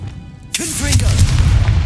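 A Confringo spell explosion in Hogwarts Legacy, a sudden loud boom that bursts in partway through and rolls on as a sustained rumble, with a warbling magical whoosh over it.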